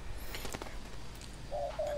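A pigeon coos twice, short and fairly faint, in the 2022 Spider-Man video game, over a steady background wash of ambient game noise.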